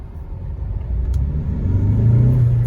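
A 2022 Kia Seltos diesel accelerates on a test drive, its engine rumble building steadily from inside the cabin into a loud, rising drone.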